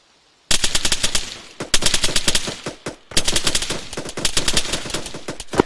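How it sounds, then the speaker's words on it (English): Machine gun fire in Arma 3, loud and close, sustained automatic bursts of rapid, evenly spaced shots broken by brief pauses. "you can see the guy firing his machine gun"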